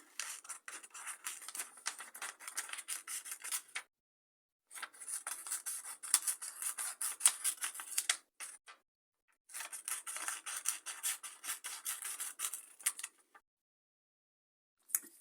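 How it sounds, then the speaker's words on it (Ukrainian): Scissors cutting yellow paper into strips for a mimosa flower craft appliqué, three long runs of quick crisp snipping close by, each broken by short pauses. "Беремо папір жовтого кольору і ріжемо ось такі смужечки"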